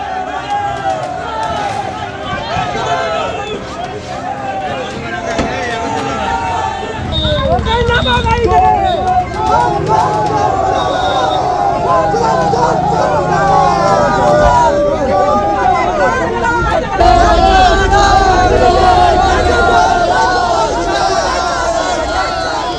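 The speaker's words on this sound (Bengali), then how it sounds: "ধৃত মিঠুন টিকাদারকে থানা থেকে বের করার সময় উঠল চোর চোর স্লোগান" Crowd outside a police station shouts slogans at an arrested Trinamool councillor being led out, a loud, dense mass of overlapping voices and chanting that swells and continues throughout.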